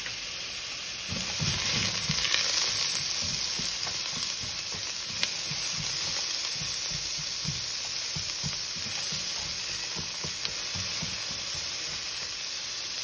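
Ground meat sizzling and frying steadily in a pan for lasagna, a continuous loud crackle with occasional stirring scrapes and no voices.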